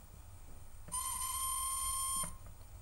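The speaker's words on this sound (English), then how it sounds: "I'm going to turn the whistle on." A model locomotive's sound decoder plays its whistle through the weak supplied speaker, one steady thin tonal blast lasting over a second, starting and stopping abruptly with faint clicks, quiet and tinny against low background noise.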